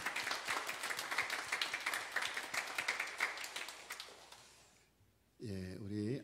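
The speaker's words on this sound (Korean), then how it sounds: "우리 하나님 앞에 영광의 박수 올리겠습니다." A church congregation applauding during a Sunday worship service, dense rhythmic clapping from many hands that gradually fades out, followed by a voice speaking at the end.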